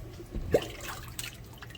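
Rinse water drains out of a kitchen sink after collard greens are washed, with soft trickling and a single clear drip over a low, steady background.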